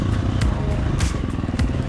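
A motorcycle fitted with a Tokyo Mods Vortex ECU runs steadily at close range in a higher gear, its engine note wavering and pitching unevenly, with brief rising surges through a continuous rough drone.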